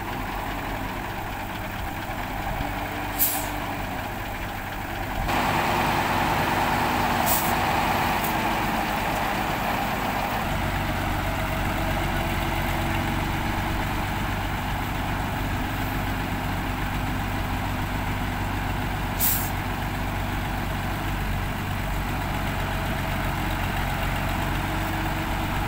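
A heavy crane truck engine idles and then labours as it pulls a sand barge, giving a steady low diesel drone that thickens when the load comes on, with a few sharp knocks and squeaks over the top.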